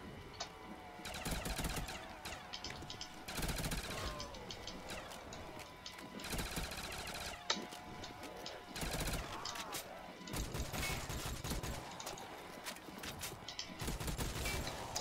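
Rapid bursts of gunfire from a gun in a World at War zombies video game on an abandoned school map, repeated volleys with brief gaps, loud and continuous across the clip.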